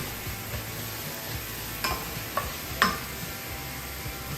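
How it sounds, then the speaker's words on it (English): Ginger garlic paste fries in a pan with a spoon stirring through it, giving a low steady sizzle broken by a few sharp scraping clicks. No voices are heard. "add the ginger and garlic paste and cook it through for about a minute"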